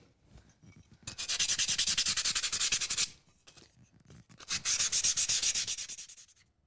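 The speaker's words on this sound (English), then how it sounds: "I've just got some sandpaper here. So I'm gonna go ahead and sand this down" Sandpaper rubbed by hand over a Dollar Tree wooden craft blank in two long bursts of rapid back-and-forth rasping strokes, close and loud, separated by a short pause.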